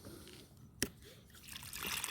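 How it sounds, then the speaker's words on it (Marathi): Water trickles quietly from an irrigation pipe onto a farm garden bed where onions and garlic grow. It is a faint, steady flow with one brief drip-like tap near the start. "चालू केल्यावरती पाणी येईन ह्याच्यातून"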